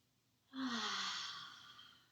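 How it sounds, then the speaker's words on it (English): A single deep breath during a morning yoga session: a short intake followed by a long, soft exhale that fades gradually, close and clear with no other sound. "Breathe in. Breathe out."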